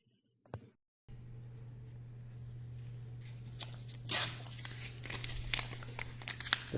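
Weighing and billing machine printing a receipt, a low steady motor hum with crinkling paper noises and a sharp tearing burst as the slip is torn off, close and fairly quiet, no talking.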